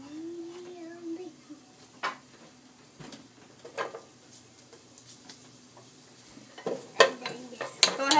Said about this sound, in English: Go ahead and stir them around and make sure that they all get coated with the olive oil.